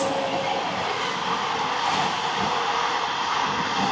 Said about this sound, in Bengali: এই আমাদের ট্রেন পার করছে ডানকুনি জংশন।